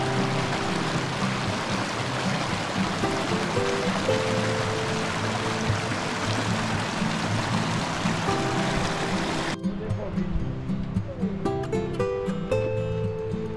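River water pours out of a mountain lake in a continuous rushing stream, loud and close, with a steady tonal hum running beneath it.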